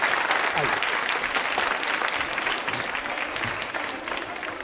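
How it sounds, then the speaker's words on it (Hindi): Audience applause at a college quiz show, steady crowd clapping filling the room, fairly even and sustained, fading slightly toward the end. "तालियां जोरों से बजाइए आपके लिए"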